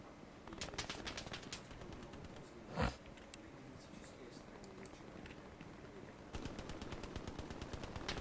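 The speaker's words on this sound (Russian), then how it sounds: "Аккуратно, пулемет расстреливает от центрального." Machine gun fire in the Hell Let Loose battlefield game comes in rapid, repeated bursts under steady combat noise, with one sharper, louder crack near the middle.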